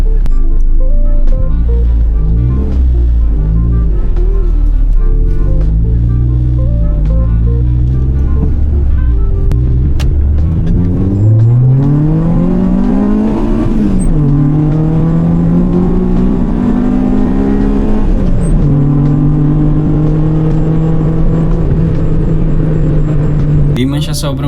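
A 1992 Honda Civic EG hatchback starts up and revs, loud and close, with rising and falling engine whine through repeated rev sweeps before settling into a steady higher hum; a voice talks over part of it.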